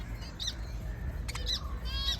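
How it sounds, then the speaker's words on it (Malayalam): Lovebirds give a few short, high chirps and squawks, spaced out over a steady low rumble of background noise, with no talking. "ലവ് ബേർഡ്സ് കണ്ടോ"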